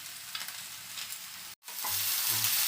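Maggi pasta stirred in a pan with ground pepper, Maggi masala and sugar: a steady sizzle with scraping spoon strokes, a brief pause, then louder frying and stirring close by.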